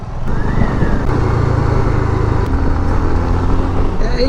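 A Bajaj Avenger Cruise 220 motorcycle on a road ride gives a loud, steady engine drone mixed with road noise and wind, without a break and close to the rider.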